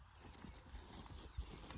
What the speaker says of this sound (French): le cheval est censé conserver son galop